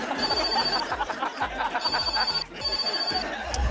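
A telephone keeps ringing out unanswered, three bright electronic ring bursts in an even pattern, heard with faint chuckles and light laughter in the background.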